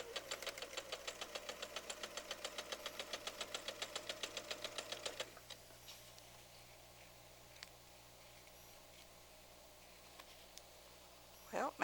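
A sewing machine chain-stitches quilt units together in rapid, evenly spaced stitches for about five seconds, quiet and close, then stops, leaving a low hum and a few soft handling noises.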